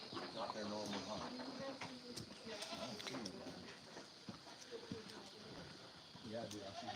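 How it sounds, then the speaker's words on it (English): Goats bleat repeatedly on a ranch at feeding time, their wavering calls overlapping amid livestock commotion and a person's voice nearby. "I see goats over here. Woo, goat! Woo, goats. Here they come."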